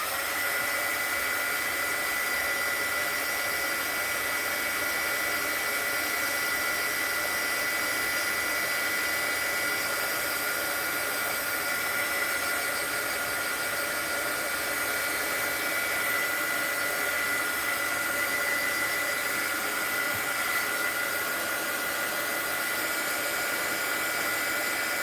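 A heat gun melts craft material for a mixed-media art journal, giving a steady, loud airy whir that runs without a break from start to finish, with no voices.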